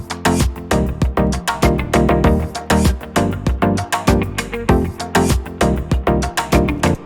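An uncompressed instrument track plays a dense run of rapid, punchy notes with uneven loudness, some notes jumping out above the rest, loud and alone.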